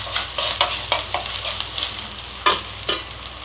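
Ginger garlic paste fries in a hot pan with a steady broadband sizzle, punctuated by sharp scraping strokes of a stirring spoon; no voices.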